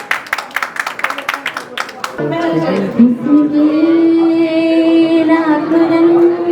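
An audience claps hands in a quick, busy burst lasting about two seconds, after which music and singing take over.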